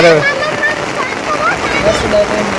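Heavy unseasonal rain pours down in a loud, continuous splashing wash, with people talking over it.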